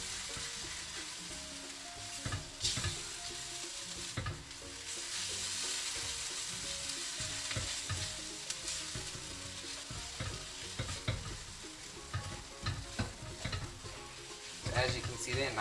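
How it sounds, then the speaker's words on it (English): A mixture fried with hing in a pan as it thickens and turns sticky and darker brown, heard as a soft steady sizzle with frequent scraping and knocking stirs throughout, fairly quiet and without talk. "and it's gonna fry up nicely."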